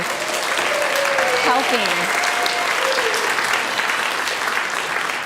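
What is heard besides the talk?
congregation applauding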